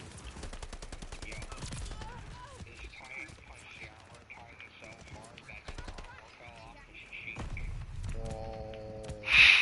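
Gunfire in a video game rattles as rapid bursts alongside hoof-like clopping, mid-level and continuous, while a voice talks over it and a tonal game sound swells at the end.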